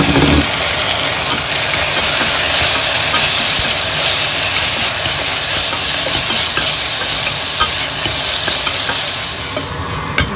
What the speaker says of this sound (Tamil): இந்த அன்னாசி பழத்தை போடுவோம். போட்டு வதக்குவோம்.